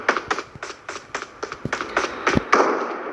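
Rapid, evenly spaced shots crack in a steady rhythm, PUBG Metro Royale game gunfire, with a short sustained burst near the end.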